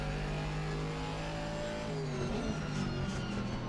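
A GT4 race car engine in the sim racing game Assetto Corsa Competizione, lapping Imola, drones steadily at high revs with a slight pitch dip and rise as it eases and accelerates, continuous and unaccompanied by talk.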